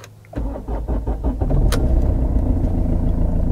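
A 2.1 litre diesel engine in a Mercedes C-Class estate cranks and catches, then settles into a loud, clattery idle that stays steady and close.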